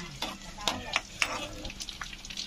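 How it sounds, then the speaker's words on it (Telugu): Garlic and cumin fry in hot oil with a soft, crackling sizzle and a few light spatters and stirring clicks, close but fairly quiet. "ముందుగా తరిగి పెట్టుకున్న ఆయిల్ హీట్ చేసుకొని అందులో వెల్లుల్లిపాయలు, అలాగే"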